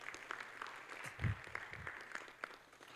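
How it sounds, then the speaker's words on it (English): Scattered audience applause at a 2024 agribusiness conference, fairly faint and thin with distinct individual claps and a low thump, continuing for a few seconds. "Can we please give another round of applause?"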